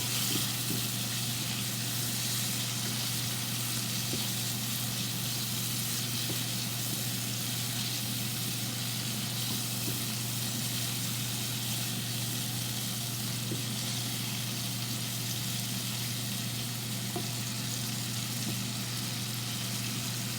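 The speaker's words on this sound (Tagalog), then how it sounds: "unahin natin itong lutuin at nang maglisa siya kasama ang bawang at sibuyas" Chicken liver frying with garlic and onion for adobo sizzles in a loud, dense, unbroken hiss that holds steady throughout, with a low hum beneath and no voices.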